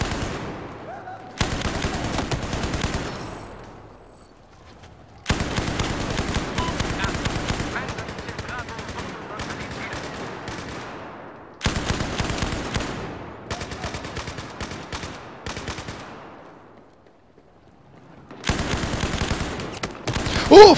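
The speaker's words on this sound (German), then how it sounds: "Da schießen sie auf mich scharf." Automatic and single gunfire in the video game Battlefield 4, loud bursts in several long stretches broken by short silent gaps, with no talk.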